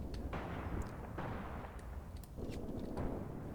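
Artillery strike in the wargame Graviteam Tactics, with continuous low rumbling and distant blasts rolling in across a battlefield, plus sharper cracks scattered throughout the steady barrage.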